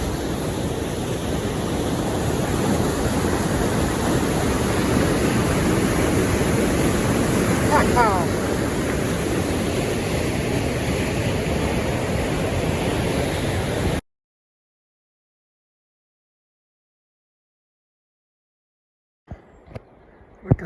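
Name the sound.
waterfall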